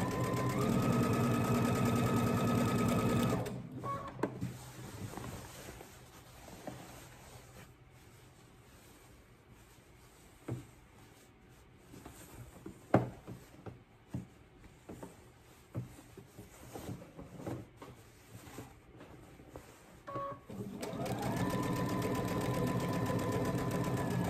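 Home sewing machine stitching seams on a McCalls M7831 garment, a loud steady motor whir at the start and again at the end, with quiet handling clicks and rustles in between.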